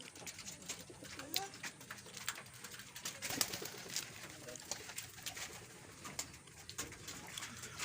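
Racing pigeons at a loft after a derby release, several birds cooing in soft repeated low calls close by, with rustling and faint background noise.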